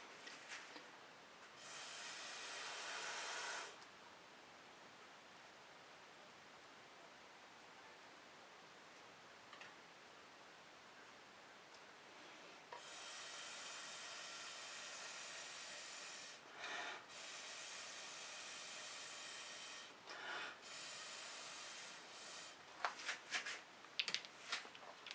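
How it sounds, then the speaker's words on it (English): Air blown through a straw across wet fluid acrylic paint, heard as soft breathy hissing bursts that come and go, one long puff near the start and several shorter ones later, quiet and close with no talking. "I'm still going to blow into it with a straw that doesn't have spit in it"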